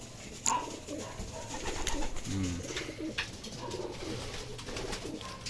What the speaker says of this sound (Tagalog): Ayan, ngal-ngal yung mga ibon.